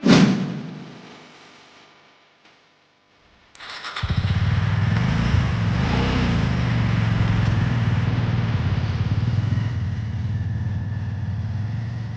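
Motorcycle engine on a breakfast ride near Pali Bhutivali Dam in Karjat, Maharashtra: a thump, a pause, then a steady, loud rumbling run close by with no talk.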